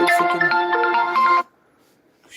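A phone ringtone plays loudly as a bright melodic tone for about a second and a half, then cuts off into near silence before a faint sound returns at the end.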